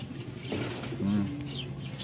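A pigeon gives a soft low coo, with faint rustling of movement around it and a murmur of background noise, heard fairly close and quiet.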